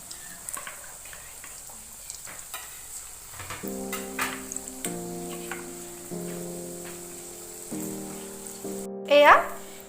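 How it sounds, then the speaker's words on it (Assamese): Marinated chicken 65 pieces deep frying in oil, a faint crackling sizzle throughout, with musical tones running underneath and a brief louder burst near the end. "এয়া চিকেনখিনি মই ডিপ ফ্ৰাই কৰি ললো"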